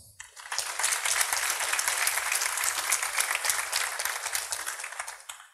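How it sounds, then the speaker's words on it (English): A conference audience at a web and marketing panel breaks into steady, dense applause, loud and continuous for several seconds before trailing off. "and he has an applause."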